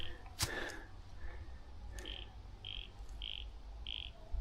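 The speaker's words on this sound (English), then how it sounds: "Hear the frogs?" Frogs croaking near a bank in the late afternoon outdoors, a series of short evenly spaced calls repeating about every half second over steady background noise, with a brief rustle early on.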